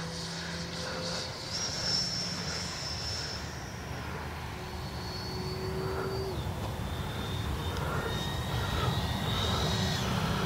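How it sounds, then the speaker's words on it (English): Freewing F9F Cougar RC jet passing at about half throttle over a runway: a steady, sustained ducted-fan whine and rush that holds level and swells slightly as it goes by, heard outdoors with no speech. "Let her tank on by. About half throttle there."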